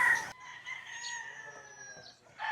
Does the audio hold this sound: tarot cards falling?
no